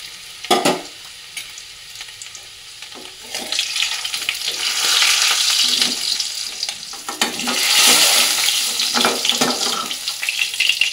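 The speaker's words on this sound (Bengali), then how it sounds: "আর নতুন আলুতে একটু খোসা থাকলে বেশ ওটা লাল লাল করে একটু ভেজে নিই" New potatoes with their skins frying in hot oil, a steady sizzle with occasional stirring scrapes and clatter rising and falling close by.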